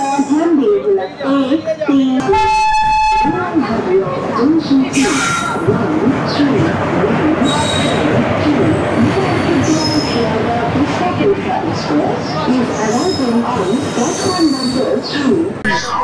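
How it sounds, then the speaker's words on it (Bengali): The 13142 Sealdah Teesta Torsa Express pulls out of New Alipurduar, with loud rumbling carriages and squealing wheels up close beneath a crowded buzz of passenger chatter and nearby voices. "নিউ আলিপুরদুয়ার থেকে 12টা 5-এ ছেড়ে আসছে 13142 শিয়ালদা তিস্তা তোরসা এক্সপ্রেস"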